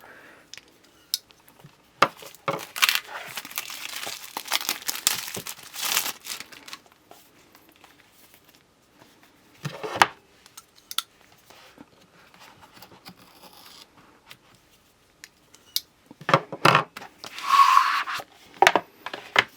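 A knife cutting and slicing open the packaging of another knife, with bursts of crinkling plastic and cardboard scraping and tearing, close and moderately loud, separated by quiet pauses.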